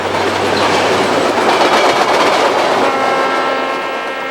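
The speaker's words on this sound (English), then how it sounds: "Bob Dotson, NBC News, aboard the Tea and Sugar train in Australia." Australia's Tea and Sugar train rolls along the rails with a loud, steady rumble and rhythmic clatter of its wheels, heard close. Near the end a faint horn-like tone sustains beneath the noise.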